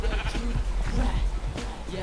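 Sheep bleat in a Minecraft survival game, several short wavering cries over a steady low background hum, fairly close and clear.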